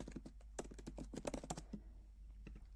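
Someone types on a computer keyboard while entering a text field, a close, quick clatter of keystrokes for about two seconds, then a couple of isolated taps over a steady low hum.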